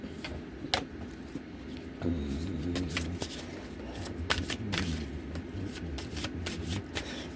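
A deck of cards is shuffled for a reading, with repeated riffling bursts and soft sliding, rubbing strokes close up, running steadily without talk.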